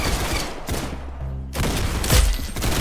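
Rapid bursts of gunfire in the Roblox game Arsenal, loud and dense, with a brief lull in the middle and a heavy thud near the end.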